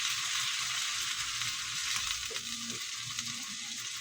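Food frying in a home pan while being stirred, a steady broadband sizzle with faint scraping touches, close and continuous with no talking.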